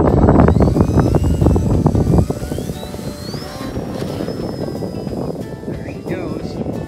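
Funtana RC model plane taking off and flying away: a loud, close motor whine with rising pitch for the first two seconds, then a fainter, steadier buzz as it climbs into the distance, with people talking over it.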